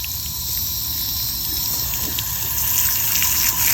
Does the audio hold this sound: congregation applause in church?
no